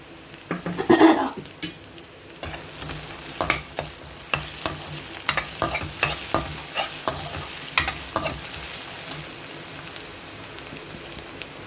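Onions sautéing in a pan for channa masala, with a soft sizzle under repeated scraping and stirring strokes of a utensil, close by.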